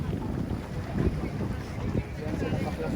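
A boat engine chugs in a low, uneven rumble nearby on Manila Bay, blended with wind noise on the microphone and faint sounds of water.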